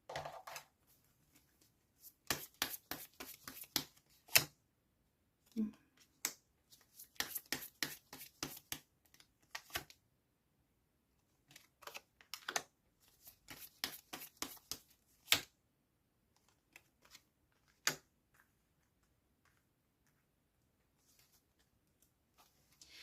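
Tarot cards shuffled and drawn by hand during a reading: close, crisp bursts of riffling clicks and snaps in several clusters separated by quiet pauses, with a few single soft taps, no talking.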